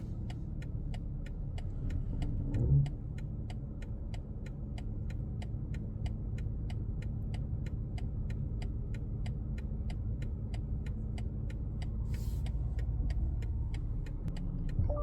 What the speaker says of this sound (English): The car is going to park all on its own.